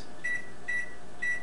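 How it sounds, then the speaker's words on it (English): Three short electronic beeps from a microwave oven keypad, evenly spaced and fairly quiet over a low room hum, as the timer is set for two minutes on high. "Close the microwave."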